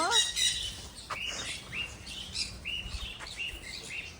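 Small birds chirp and tweet in short, bright bursts at a mini zoo near Nandi Hills, fairly faint and scattered, with soft background noise.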